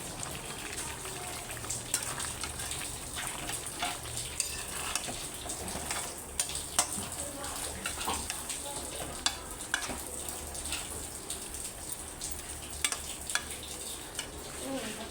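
Young jackfruit frying in melted mutton fat in a pan, a steady soft sizzle with occasional stirring and utensil scrapes, close and fairly quiet, with no talking.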